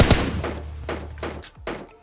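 Gunshots in the mobile battle-royale game PUBG Mobile Lite: a handful of separate muffled reports at irregular intervals over a low background hum, sounding fairly distant.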